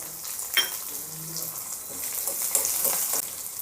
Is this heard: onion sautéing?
yes